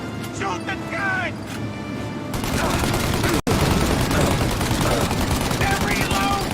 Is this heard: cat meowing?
no